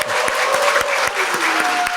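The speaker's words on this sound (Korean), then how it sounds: "우리 한 대표님께 박수 한번 크게 보내드리시죠" Loud applause from a seminar audience for party leader Han Dong-hoon at a forum on North Korea and unification, a dense steady clapping that fills the whole stretch evenly without a break.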